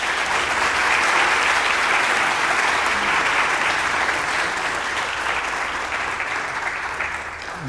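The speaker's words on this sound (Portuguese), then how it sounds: "gostaria de pedir uma salva de palmas para os colegas que tiveram coragem de apresentar suas ideias" Sustained applause from an audience at an Energy Week startup presentation event, dense and loud throughout, tapering slightly at the end.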